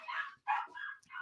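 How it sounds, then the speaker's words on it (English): A dog barks several times in quick, yappy bursts indoors, fairly close and moderately loud, with short gaps between barks. "Excuse my dog."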